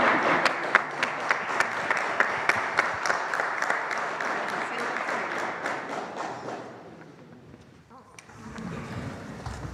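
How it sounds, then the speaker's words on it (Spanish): Audience applause fills most of the clip, many hands clapping together, then it fades out and a different background sound takes over near the end. "Un aplauso de todos."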